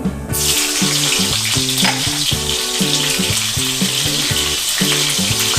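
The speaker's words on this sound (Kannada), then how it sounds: "ಅದಕ್ಕೆ ನೆಕ್ಸ್ಟ್ ಈಗ ನಾವು ಹಸಿಮೆಣಸಿನ್ಕಾಯಿ ಹಾಕೋಣ" Green chillies drop into hot oil already holding cumin seeds, bursting into a loud, dense sizzle that rises sharply and holds steady. A rhythmic musical pattern also plays underneath throughout.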